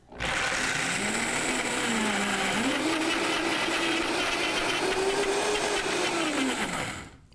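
A powerful blender grinds ingredients for a raw cobbler into powder, a loud continuous motor whine that shifts pitch as the load changes, running steadily for about seven seconds before cutting off.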